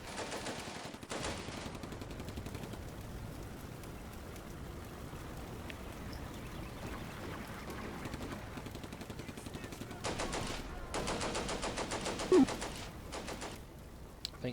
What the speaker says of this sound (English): What does this Maxim machine gun hope to actually do